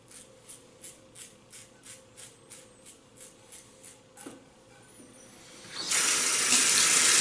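Tap water runs over a Rockwell 6S safety razor as it is rinsed, starting as a series of short rhythmic splashes and then swelling into a loud, steady gush near the end.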